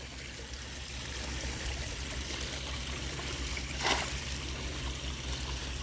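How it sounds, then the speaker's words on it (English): Water poured from a cup into a backyard goldfish pond, a steady close trickle and splash with a brief louder gush near the end, over constant outdoor background noise. "And then just pour the rest of it out."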